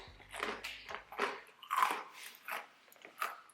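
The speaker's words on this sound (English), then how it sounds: "So it's your basic crunchy pretzel, and then it has this Dijon mustard powdery coating." Someone crunches a vegan cassava-flour pretzel with a powdery Dijon mustard coating, giving a series of quiet, close bites and chews in an uneven rhythm of about six crunchy bursts.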